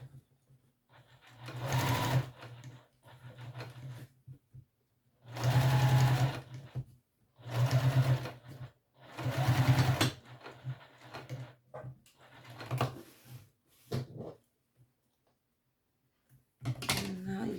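Sewing machine stitching in short bursts of a few seconds each, with pauses between them, up close and fairly loud while making a Madison Hunter garment.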